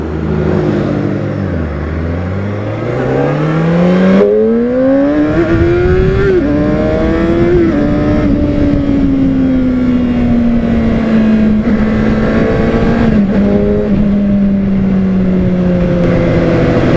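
A motorcycle rides along a road on an overcast day. Its engine is close and loud, the pitch first sliding through a gear change and rising, then holding a steady drone that eases slowly downward.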